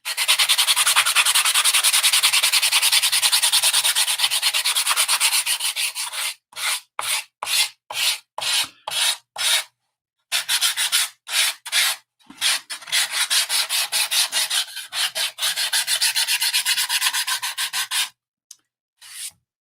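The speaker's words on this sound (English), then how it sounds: "do a little bit of sanding on the roof" Steady, close sanding of the wooden roof of a 1:24 scale cable car model, a continuous scratchy rasp that breaks into rapid back-and-forth strokes with short pauses, no voices.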